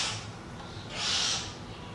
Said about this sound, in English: It's a blackbird outside doing blackbird things.